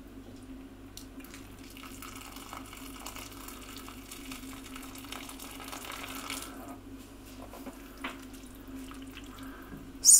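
Hot water from a kettle pours steadily into a casserole pot of vegetarian sausages, beans and potatoes, a continuous close trickling wash that holds for several seconds before a brief clatter at the end.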